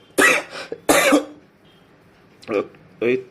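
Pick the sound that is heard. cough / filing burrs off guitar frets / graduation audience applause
cough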